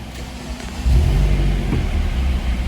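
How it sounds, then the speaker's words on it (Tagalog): A car engine freshly treated with a flush-out additive runs near the listener with a low, steady rumble that swells slightly as it settles into a smooth, even idle. "Pag andar ng kotse, paparinig natin sa inyo yung makina."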